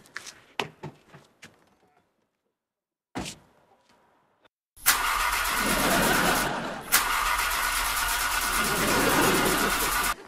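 A car engine being cranked but failing to catch: a few sharp clicks and thunks, then a loud sustained whirring crank that pauses briefly and resumes, close and dominant.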